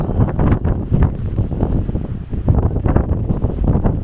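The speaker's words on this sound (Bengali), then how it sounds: "বিভৎস হাওয়া চলছে, বিভৎস।" Strong wind blasts across a mountain top on Mahendragiri in Odisha, a loud, continuous buffeting roar with gusty surges rumbling against the microphone, without any voices.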